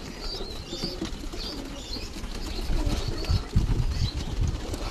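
Fantail pigeons stir and take off nearby, with soft wing flaps and low cooing over a muffled, rumbling background.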